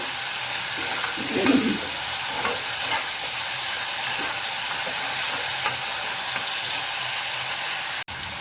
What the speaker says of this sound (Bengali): আলুটা ভাজা কিছুটা হয়ে আসছে।